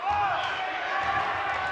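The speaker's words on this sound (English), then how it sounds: "Doing a little bit of cheering if you hear that in the background." Aberdeen Stomp and Shake cheer squad chanting at a high school basketball game, a steady sustained cheer from the crowd area filling the gym, with a bouncing ball faintly underneath.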